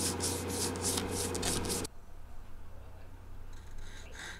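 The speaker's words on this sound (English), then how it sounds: "we'll just give it a quick little polish" An Epiphone Model 3 guitar's finish is polished by hand with a cloth, giving loud, steady rubbing strokes that stop abruptly partway, leaving quiet room tone with faint brushing near the end.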